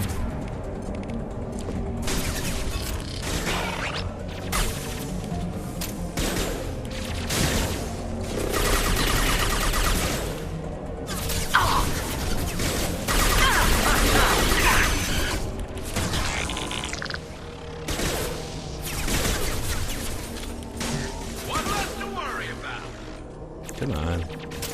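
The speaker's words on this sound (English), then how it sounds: "Why are they shooting at you, Garrus?" Gunfire in Mass Effect 2 during an N7 Anomalous Weather mission, with sustained bursts and impacts over a busy combat soundscape across the whole stretch, mixed with ongoing voices and game effects.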